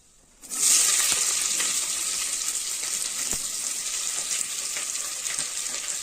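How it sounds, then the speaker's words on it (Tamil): A sudden loud sizzle as onions hit hot oil, then a steady crackling fry that continues evenly, with no talking, while cooking mutton keema biryani. "போட்டு நல்லா வதக்கிடுங்க"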